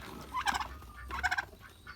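Two bursts of turkey gobbling, each a rapid warbling rattle, close by and fairly loud, with a short pause between them.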